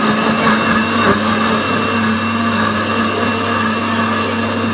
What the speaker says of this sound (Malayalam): പഞ്ചസാരയും കൂടി ആഡ് ചെയ്തിട്ട് നമുക്കിത് മിക്സിയിൽ വെച്ചിട്ടൊന്ന് അടിച്ചെടുക്കണം